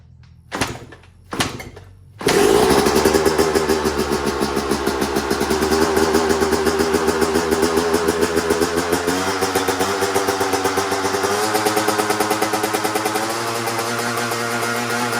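A Yamaha YZ125 two-stroke dirt bike with a freshly rebuilt top end, new piston and cylinder, on choke: a few kick attempts, then the engine fires and idles loudly and steadily, close by, with no talk.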